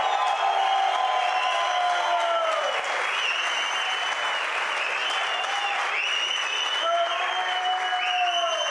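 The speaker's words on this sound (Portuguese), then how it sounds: "Uma salva de palmas." An audience breaks into sustained applause at a talk on the history of cannabis in Brazil, a dense wash of clapping from many hands with faint cheering, filling the room for the whole stretch.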